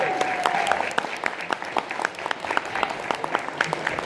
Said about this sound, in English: Keep that applause for Kevin.